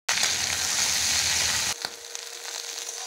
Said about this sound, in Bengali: ঢেঁড়সগুলো ভেজে নেব